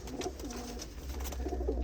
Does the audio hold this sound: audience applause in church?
no